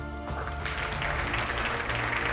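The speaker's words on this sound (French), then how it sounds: "Je nous demande à tous d'applaudir cette femme-là." Applause from an audience at a panel event honoring a woman, a dense steady patter of clapping that swells after a brief quieter start and holds loud to the end.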